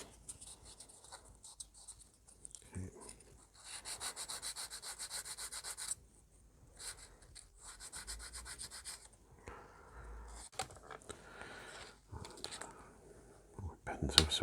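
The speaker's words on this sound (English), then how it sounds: "These will probably be okay with the sanding stick." A sanding stick rubs and scrapes across a small model railway worker figure in quiet, close strokes that come in bursts with pauses, while a voice talks softly over the work.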